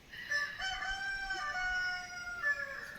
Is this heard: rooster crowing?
yes